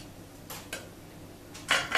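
A small cutting board set down on a table in a children's cooking class, giving a few light wooden knocks and clatters, the last two louder and sharper.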